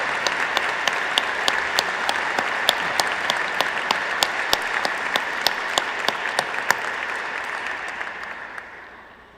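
An audience at a national education forum with the teachers' union in Mexico applauds steadily for several seconds, a dense clapping that gradually fades out at the end.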